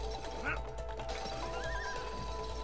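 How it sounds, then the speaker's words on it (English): A horse neighs in the video game It Takes Two: a single whinny over game music and background ambience, with a voice speaking nearby. "And then I got a horse."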